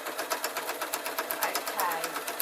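Sewing machine stitching the binding of a quilt, a fast steady mechanical chatter of rapid needle strokes, close and continuous, with no one speaking over it.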